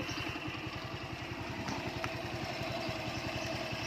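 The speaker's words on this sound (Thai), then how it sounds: "เดี๋ยวให้ฟังเสียงเครื่องกันใกล้ๆเลยนะครับ" A kick-start Honda Wave 110i motorcycle with a dry, stock engine idling in neutral, recorded up close: a steady, even putter with a quick regular beat that holds throughout.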